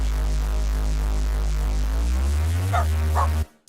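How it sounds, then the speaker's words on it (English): A dog barks a few times close by, sharp yelps rising over a loud steady low hum of music or machinery that cuts out abruptly at the end. "The dog's barking"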